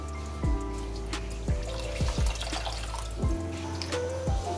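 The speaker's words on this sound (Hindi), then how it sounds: "इसमें ज़्यादा पानी डाल दें।" Water runs into a cooking pot holding beef marrow bones for nihari stock, a close trickle broken by several low splashing drips at uneven intervals, with no voices.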